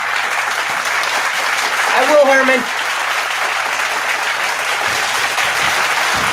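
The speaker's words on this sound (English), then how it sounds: "Still a hand of applause" Audience applause at a live stage show, a steady wash of clapping that fills the whole stretch while a person speaks briefly over it.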